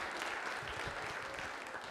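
A church congregation applauding the fathers at a Father's Day service, steady faint clapping heard from a distance.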